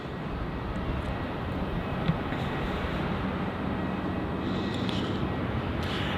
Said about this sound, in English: Our next departure off runway 34 is going to be VA 321 heading off to Brisbane, the 737-800.